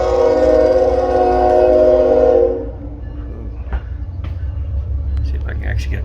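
CP and CSX trains on an N scale model railroad layout, a loud sustained horn-like tone that cuts off after a couple of seconds, leaving a low running rumble with light clicks.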